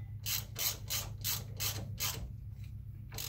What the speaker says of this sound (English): with a 3/8 ratchet, we tighten it good and tight